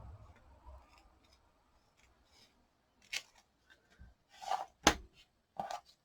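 Scissors cut a fishtail into glitter ribbon with several short, crisp snips and rustles, spaced irregularly in the second half after a quiet stretch, close and clear.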